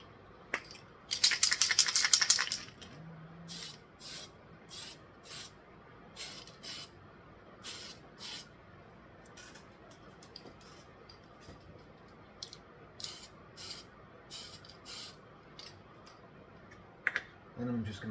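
A loud hiss of spray paint on a 1/1000 scale USS Enterprise model bursts for about a second, followed by many short, regular spray bursts spaced through the rest, with faint movement noises between.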